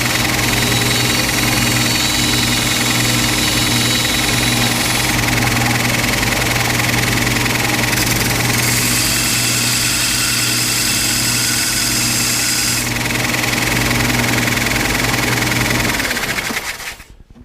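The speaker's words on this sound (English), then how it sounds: "So with the combination of the belt sander and a disc sander, I'm going to do that right now." A belt sander and disc sander shaping the tip of a steel ice pick: a steady, loud motor drone with a constant abrasive hiss, shifting slightly in tone as the pressure changes, then winding down at the end.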